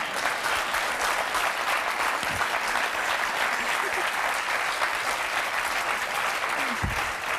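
Studio audience clapping on a French talk show, a sustained, thick roar of hands at a steady loud level for several seconds, with faint voices mixed in.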